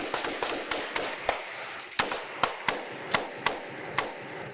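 Rapid volley of gunshots outdoors as police officers and an armed suspect fire handguns, a dozen or more sharp cracks in quick irregular succession, fairly close and loud, no talking.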